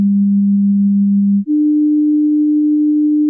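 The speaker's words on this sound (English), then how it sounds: "you'll first hear this one, which is the 200 hertz, then you'll hear the 300 hertz, and then you'll hear the sum of the two" Two pure sine tones play one after the other, both loud and steady with no voices. A lower tone holds for about one and a half seconds, then switches straight to a slightly higher tone that continues to the end.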